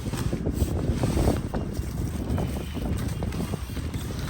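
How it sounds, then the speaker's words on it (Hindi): Cold morning wind gusting steadily across an outdoor microphone, a loud continuous rumble and buffeting with no speech, holding throughout. "आज काफ़ी ठंडी ठंडी हवा चल रही है सुबह को"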